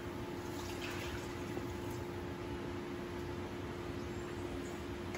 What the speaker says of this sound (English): Our next step is gonna be to add 2 cups of water.